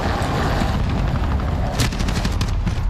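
Airstrike explosions in Call of Duty Modern Warfare, a dense rumbling barrage of booms and blasts rolling continuously, loud and close, with a sharper burst near the end and no talking.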